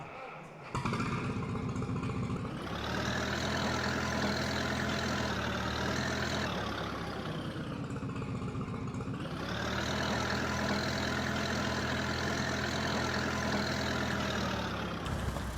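A Minneapolis Moline tractor engine in Farming Simulator 22 runs steadily, loud and close, with a low rumble that dips and rises in pitch twice as if revved.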